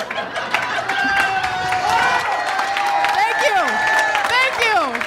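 A comedy club audience at the La Jolla Comedy Store breaks into applause with cheers and whoops, a dense, loud wash of clapping mixed with shouting voices that keeps going throughout.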